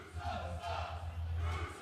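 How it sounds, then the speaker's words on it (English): A capacity crowd at a Memphis wrestling arena cheers a welcome, a short rolling swell of voices in distant waves over a low rumble. "the capacity crowd here at the Wrestle Center is giving you a warm Memphis welcome"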